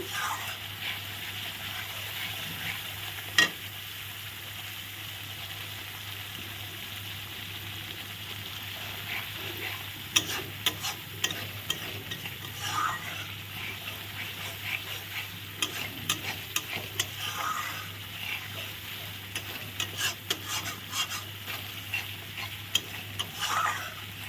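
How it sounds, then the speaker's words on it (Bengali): Potatoes being stirred and fried with spices in a pan, a steady soft sizzle with scattered scraping clicks of the spoon throughout, fairly quiet and continuous with a low steady hum underneath. "সব মশলা দিয়ে ভালো করে কষিয়ে নিচ্ছি"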